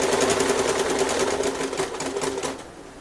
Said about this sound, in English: we're going to double stitch this